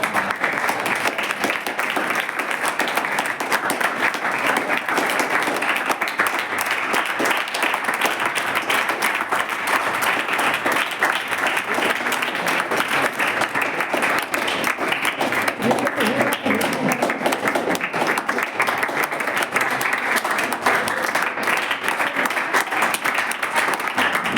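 Audience applause at a school program inauguration and social audit event, a steady, dense wash of many hands clapping that holds at full strength for the whole span, with faint voices mixed in beneath it.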